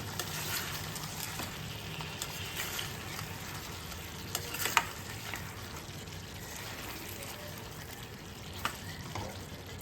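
Pepper chicken curry stirred in a pan after salt is added, a soft continuous sizzle with gentle scraping, close by, broken by two brief spoon clinks against the pan.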